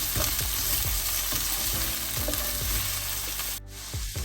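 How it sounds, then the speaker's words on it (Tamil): Onions sautéing in a pan while stuffing is cooked for vegetable roti, a loud continuous crackling sizzle with repeated scraping stirs of a spatula, close up, briefly dipping near the end, with no voices. "வெங்காயம் கொஞ்சம் நேரம் வதங்கி கொண்டு வரட்டும்"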